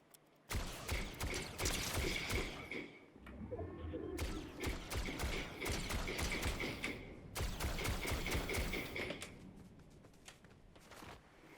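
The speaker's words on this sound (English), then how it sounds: "who is shooting at me?" Video game gunfire rings out in rapid, crisp bursts of sharp cracks, loud and close, with short pauses between volleys and mechanical clicking mixed in.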